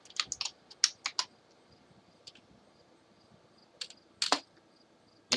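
Quick bursts of clicking keystrokes on a computer keyboard, a few clustered taps, then pauses, then another short flurry, faint and close in a quiet room.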